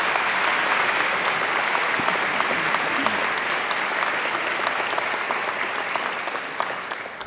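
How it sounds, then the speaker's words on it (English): Graduation ceremony crowd gives a loud, full round of applause for the singer Angela, thick continuous clapping filling a large hall, close and steady for the whole stretch. "I think she deserves another great round of applause"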